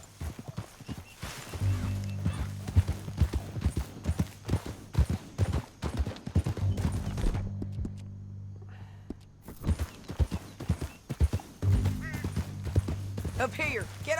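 Horse hooves clop in Red Dead Redemption 2 in irregular bursts, with a quiet gap partway through, mixed with music and character voices talking over the riding.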